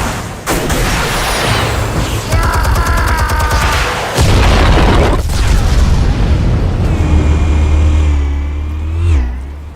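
Explosives detonating in the Batman Telltale video game, with deep booming blasts, rumbling low roar and whooshing debris layered with game sound effects, loud and close throughout.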